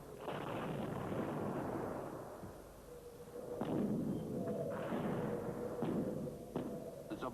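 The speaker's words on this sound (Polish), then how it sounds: "Rozerwanie się pocisku nad samym okopem jest przypadkiem szczególnym" Artillery shells burst in the air above a trench, heavy booming blasts rolling into one another with sharp thuds and cracks that echo for several seconds, with no voices.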